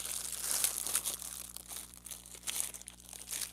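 A small drawstring gift bag is ripped open up close, with crinkling and tearing of paper or fabric in quick irregular bursts, fairly quiet and without talk.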